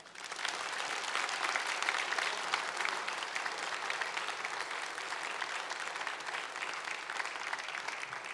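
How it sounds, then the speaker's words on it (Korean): Warm audience applause welcoming candidates at a church general conference policy presentation, dense continuous clapping from a large crowd, even and sustained without a break. "우리 인사하실 때 우리 뜨거운 박수로 환영하겠습니다."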